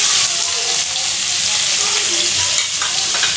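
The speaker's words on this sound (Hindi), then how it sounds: "अब हम इसमें जिंजर गार्लिक और चिलीज डालेंगे गोल्डन ब्राउन होने तक।" Ginger, garlic and chilies frying in oil in a kadhai, giving a steady, close, loud sizzle that continues without a break, with faint stirring underneath.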